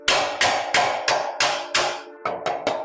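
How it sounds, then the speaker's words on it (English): A hammer knocks a steel part for a CNC plasma cutter into the corners of a frame, giving nine sharp metallic ringing strikes in a fairly even rhythm, close and clear with no voices. "Take your hammer,"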